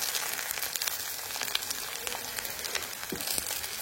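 Chopped shallots, about 50 grams, frying in hot oil, with a steady, even crackling sizzle close by and a few sharper pops, no voices over it.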